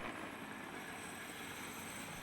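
A military helicopter crew's aircraft produces a steady, broadband rotor and engine roar that stays even and unbroken throughout, heard from a distance with no voices.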